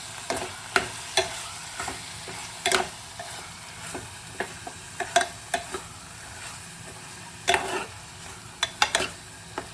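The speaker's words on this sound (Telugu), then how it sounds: "కొద్దిగా ఒకసారి కలుపుకుందాము" Bottle gourd fry with coriander and spice powder being stirred in a pan, with a steady sizzle under repeated scraping and clinking of the spoon at an irregular rhythm.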